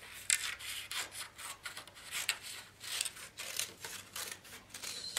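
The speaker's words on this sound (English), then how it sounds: "Cut a piece there and another piece." Scissors snip through card stock for insole layers in a rapid series of short, close, fairly quiet cuts, each with a crisp rasping edge; no voices.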